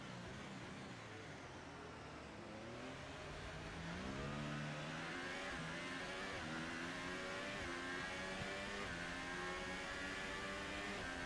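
Race cars in a Belgium Grand Prix racing video game, their engines rising in pitch together as they accelerate, a continuous layered whine of several cars at steady loudness with no talk.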